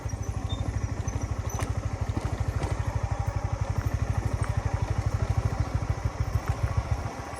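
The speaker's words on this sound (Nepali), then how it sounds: "बाइक चढाउने यति गाह्रो हुन्छ।" A motorcycle engine labors in a fast, even thumping rhythm while climbing a rough uphill road, loud and close, with faint clatter and no talking.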